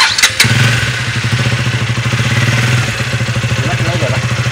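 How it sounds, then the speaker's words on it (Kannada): A motorcycle engine starts with a brief cranking burst and then settles into a steady, close, throbbing idle, while people talk nearby. "ಸೊ ಬಾಯ್ಸ್, ಸಮೀರ್ಗಳು ಒಂದು ರೌಂಡ್ ಹೋಗಿ ಬರ್ತಾರೆ ಗಾಡಿನ."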